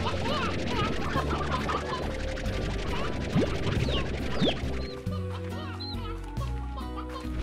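Chickens clucking in the video game Slime Rancher, with steady busy clucks and squawks over a dense, loud layer of game ambience and music, continuing throughout.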